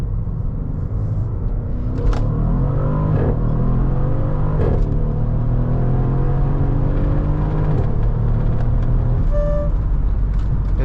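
A 2015 Mercedes ML63 AMG (W166) pulls hard in first gear, its engine note a loud, steady rumbling roar that climbs in pitch as the SUV accelerates, with a few brief clicks and thumps heard from inside the cabin.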